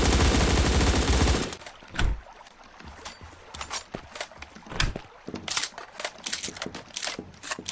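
Shotgun fire in the online battle game Surviv.io starts with a loud, dense blast of noise, then gives way to a quick run of sharp, irregular shots and clicks at moderate volume.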